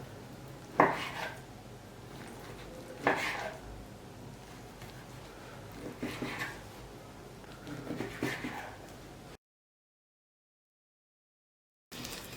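A sharp kitchen knife slicing vegetables on a board, a few distinct crisp cuts spaced a couple of seconds apart with soft handling noises between, fairly close, followed by a short silence.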